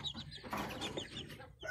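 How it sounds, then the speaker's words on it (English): Black Jersey Giant chickens on a farmstead cluck softly and intermittently at close range in a short, fairly quiet stretch. "Here's some black Jersey Giants I'm growing out for someone."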